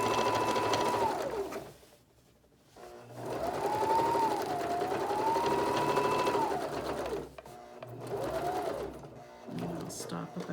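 A sewing machine stitches lace onto denim in runs of whirring, separated by short pauses, with a rising and falling pitch as it speeds up and slows, close by and steady.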